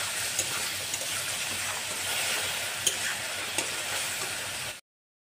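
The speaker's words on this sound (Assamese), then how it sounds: "পানীখিনি ভালদৰে এনেদৰে মছলাৰ লগত মিক্স কৰি দিলোঁ।" Egg curry masala frying in a pan with a little water being stirred in, giving a steady close sizzle with soft scraping strokes and a few small clicks, ending abruptly in silence.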